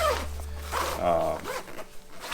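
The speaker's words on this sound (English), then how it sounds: "they got great little tabs here to access your zipper" Zipper on a Farpoint Osprey 70 travel backpack being pulled open in short, close rasping strokes, with a brief voice heard partway through.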